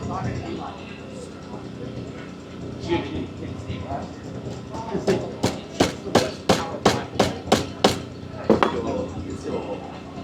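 A nail is hammered into a wooden tool handle at an outdoor heritage-day craft demonstration, about ten sharp, evenly spaced metallic strikes ringing out close by over a background of crowd chatter and low rumble.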